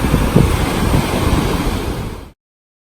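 Ocean surf rolls on a Florida shore with gusting wind buffeting the microphone as Hurricane Michael approaches, a loud, steady roar that stays continuous and then cuts off abruptly.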